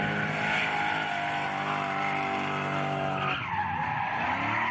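BMW cars at a national fan rally roar past at speed with a long, loud tire skid and squeal, engine note dropping sharply as one passes close by.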